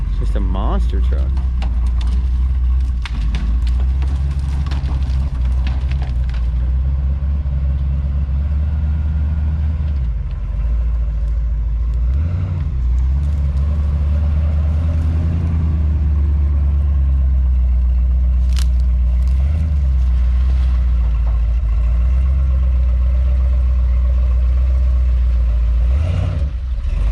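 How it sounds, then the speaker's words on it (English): A square-body truck idles steadily for the whole stretch, a loud low engine rumble running constant underneath, with people talking over it now and then. "A monster truck."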